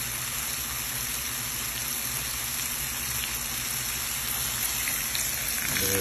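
Baby bella mushrooms sizzle in a pan, a dense, steady crackling hiss that holds at an even level throughout.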